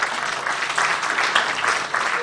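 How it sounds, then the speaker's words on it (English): A round of applause for the panelists at a health insurance anniversary symposium, with dense, even clapping from the audience that holds steady throughout and no speech over it. "Please, a round of applause for my panelists."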